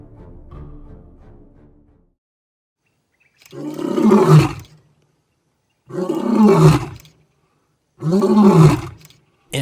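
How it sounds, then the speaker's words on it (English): Lion roaring: three powerful, deep roars spaced about two seconds apart, each swelling and fading, following a lower rumbling grunt at the start with silence between calls. "the roar of a lion can be heard up to 8 kilometers away"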